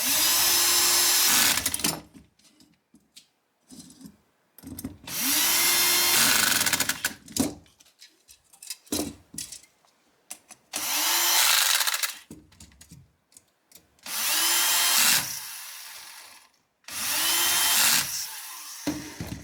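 A power tool drives M3 by 8 screws into a servo mount in about five short loud whirring bursts, separated by quiet gaps with small clicks and handling sounds.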